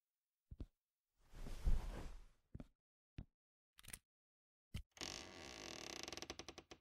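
A trap door beneath a bed creaks open in a series of separate wooden creaks and knocks that end in a long, rattling groan, heard alone in a quiet room.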